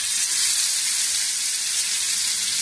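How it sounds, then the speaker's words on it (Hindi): Mutton tikka sticks fry in two to three tablespoons of hot oil in a pan, giving a loud, steady, close-up sizzle that runs unbroken throughout with no talk. "एक पैन लिया है हमने, इसमें हमने 2 से 3 tablespoons ऑयल डाला है। ऑयल हमारा गर्म हो चुका है, अब हम इसको फ्राई कर लेंगे।"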